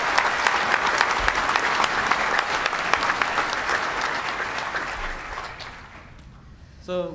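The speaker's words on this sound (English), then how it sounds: "So if you can give him a round of applause" An audience applauding at the DEFCON 17 closing ceremonies, dense sustained clapping that thins and fades out, with a voice starting at the very end.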